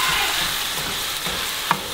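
Ground pork for Thai basil pork (pad krapow) sizzles in a pan under a constant hiss, with soft stirring scrapes and one sharp utensil tap near the end.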